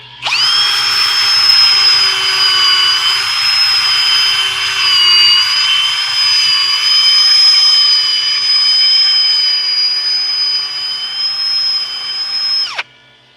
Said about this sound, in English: Sand this thing up.